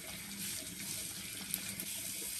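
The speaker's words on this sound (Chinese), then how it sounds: "咱把这个葱给洗一下" Tap water runs steadily into a sink while scallions are washed, a soft, continuous splashing rush heard alone at low level.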